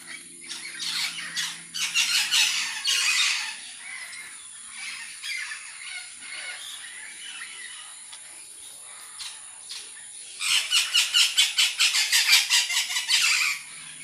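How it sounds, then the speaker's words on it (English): Parrots at a bird rescue in Belize squawking in a noisy chorus, with loud rapid repeated screeches and a chattering burst near the end, over a constant high insect-like drone. "letting you take time to listen to all this ruckus with parrots."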